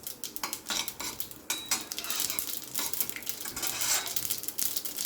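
Urad dal and mustard seeds fry in a pan for tomato rice, giving a steady crackling sizzle with frequent sharp pops and light metal clinks throughout, close and fairly loud with no talking.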